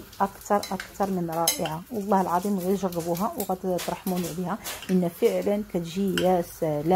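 Salad ingredients being stirred with mayonnaise in a bowl, a soft, intermittent mixing sound running beneath near-continuous talking by one speaker.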